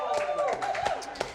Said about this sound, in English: Give it up for Rafflegator one more time. Big round of applause.